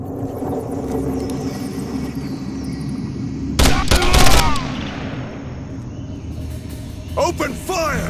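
Gunfire in the PC shooter Code of Honor 2: Conspiracy Island, with sharp bursts of rapid shots over a rumbling game ambience, loudest in the middle and a few more cracks near the end.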